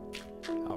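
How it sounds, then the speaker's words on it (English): Water placed from a bucket in Minecraft makes a short liquid splash and trickle, close and fairly loud, lasting under a second. "So we'll put one water there."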